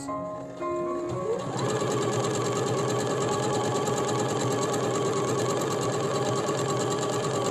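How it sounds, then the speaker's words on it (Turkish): A sewing machine runs steadily, stitching the side seams of a garment with a continuous, even mechanical whir after a brief start-up, loud and close with no talking. "Şimdi biz normal olarak yan dikişlerimizi dikeceğiz."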